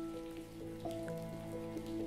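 Rain pours steadily outside, its even hiss and patter mixed with calm held chords of background music throughout, and nobody speaks.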